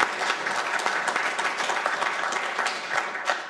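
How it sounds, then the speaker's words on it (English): An audience at a city's state-of-the-city address applauds the fire department's new engine, steady dense clapping from a sizable indoor crowd that carries evenly throughout. "You can clap for that"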